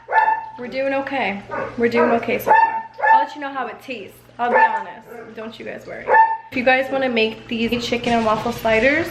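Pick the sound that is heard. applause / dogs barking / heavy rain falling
dogs barking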